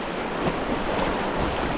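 Coal Creek running high and fast in a rocky lower canyon near Anthracite Creek, a steady, loud wash of rushing water filling the scene without pause, with a bit of wind buffeting the microphone.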